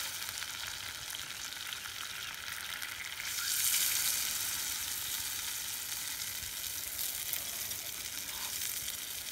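Eggs scramble in a very hot cast iron pan, a steady loud sizzle running throughout with a brief surge of crackling partway through as they are stirred and moved around.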